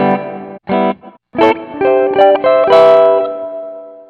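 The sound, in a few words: electric guitar through multi-effects processor with reverb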